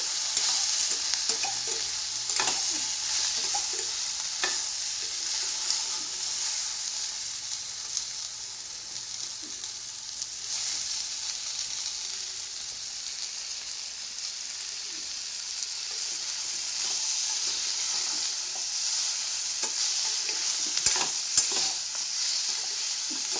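A spatula steadily stirs Andhra-style mango and cashew curry in a hot pan, a continuous soft sizzle with faint scraping strokes throughout, no voices.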